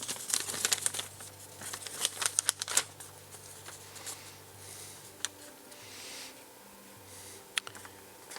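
Paper crinkles and rustles close by while a Velleman/Whadda voice changer kit is unpacked, with dense crackling bursts early that thin out into scattered soft handling sounds.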